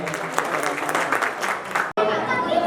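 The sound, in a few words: audience applause at a Koli community gathering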